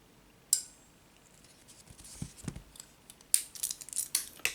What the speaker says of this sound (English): Cut the tag.